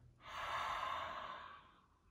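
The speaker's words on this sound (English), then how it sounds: "And then we begin our Ujjayi breathing, audible breath. It sounds like the ocean in the back of the throat." Ujjayi breathing during a yoga class: a steady, hushed ocean-like rush of breath through the open mouth, constricted at the back of the throat, swelling and fading over about two seconds, close and alone.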